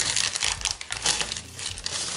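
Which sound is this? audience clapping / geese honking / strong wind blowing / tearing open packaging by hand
tearing open packaging by hand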